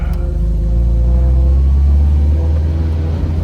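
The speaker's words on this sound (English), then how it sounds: "Makes that classic MGB sound." A 1964 MG B roadster engine under way, a loud, steady low rumble from the car's interior with a constant drone and no talking.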